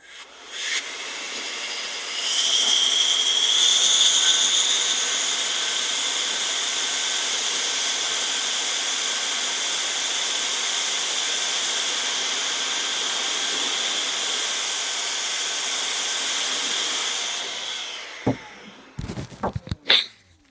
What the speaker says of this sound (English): So I'm going to continue to blow.